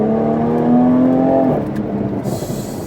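Jaguar F-Type sports car pulling hard in first gear, a loud close engine note rising steadily in pitch for about a second and a half before the revs drop as the shift comes, then a lower rumble carries on.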